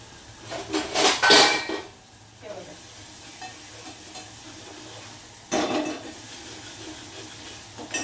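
Dal scooped from a pot into a separate vessel in a home kitchen, a loud burst of metal clanks and scraping from ladle and pots, then quieter handling and another clatter later.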